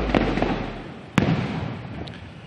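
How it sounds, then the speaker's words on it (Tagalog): Fireworks go off at Malacañang Palace during an evening ceremony, with sharp bangs and crackling bursts over a steady rumbling wash of distant explosions, loud and continuous. "yun yung fireworks display na nangyayari ngayon na pinapanood ng First Family"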